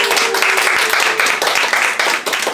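A room full of guests applauds at a book launch event, a dense, continuous burst of clapping that stays loud and even across the moment, with a faint voice briefly mixed in near the start.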